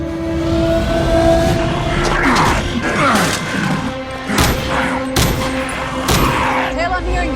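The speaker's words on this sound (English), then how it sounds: "I'm hearing gunfire." Gunfire in a science-fiction TV series intro, sharp bursts and cracks amid a dense mix of music, thuds and crashes.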